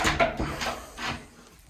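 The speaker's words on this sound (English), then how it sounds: "oak veneer doors, locking mechanism on. closes." An oak veneer door with a locking mechanism swings and closes, giving a few soft wooden knocks and rubbing sounds before settling quiet at low volume.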